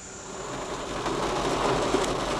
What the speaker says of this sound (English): And again, raining as a train passes.